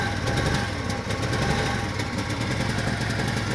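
A Honda 125 motorcycle idles with fuel system cleaner running through it, a buzzy, fast-pulsing single-cylinder putter heard close up and steady throughout, with no voices.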